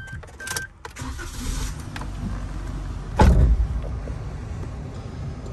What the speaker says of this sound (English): So I'll just jump in and turn the car on.